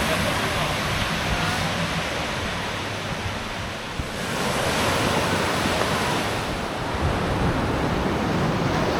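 Ocean waves and wind on a beach at Ko Samet make a continuous broad rushing wash with gusty buffeting on the microphone, steady and fairly close throughout.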